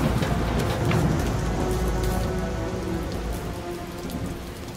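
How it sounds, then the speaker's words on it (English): Heavy rain pours down during a thunderstorm, with thunder rumbling low beneath a dense, steady hiss of drops on hard surfaces; the storm stays loud throughout and eases slightly toward the end, with no voices. "that was when the lightning bolt hit the dumpster"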